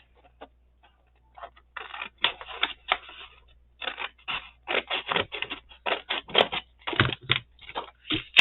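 Paper is cut out by hand to make an ephemera holder, giving a series of short crisp snipping and rustling bursts that quicken into a busy irregular rhythm, close and fairly quiet, with no voices.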